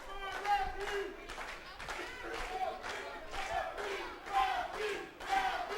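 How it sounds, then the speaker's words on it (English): A wrestling crowd at a New Year's pro wrestling event chants in rhythmic bursts, loud rising shouts repeating every second or so with scattered clapping. "Crowd trying to bring Ralphie Rex back into this, his second match of the night"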